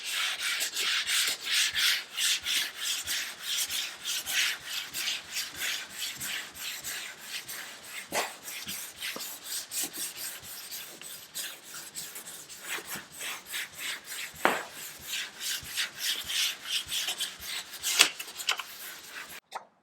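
A Honda Accord's painted panel is wet-sanded by hand with 1500 grit sandpaper to cut down orange peel, giving a steady close rhythmic rubbing and rasping with brisk back-and-forth strokes and a few louder scuffs, no voices.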